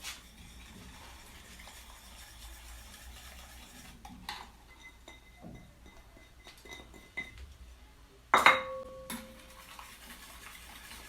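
A spoon stirs Dove soap into warm milk in a glass bowl to make a face mask, with soft scraping and swirling, scattered clinks, and one louder ringing knock near the end.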